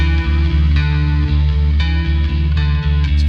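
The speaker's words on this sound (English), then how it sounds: "It's got a nice little bit of rattle to the string." Loud distorted alternative metal plays, with a prominent bass guitar carrying a slight string rattle beneath heavy guitars and steady drum hits.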